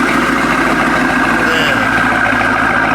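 A twin-turbo, Satera-tuned built Hellcat engine idles with a steady, even rumble held close and constant throughout, with voices faintly present in the background.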